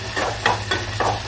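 Green chilli pieces frying in a pan for a carrot fry, a steady close sizzle broken by three or four scraping stirs at an even pace, with no talking.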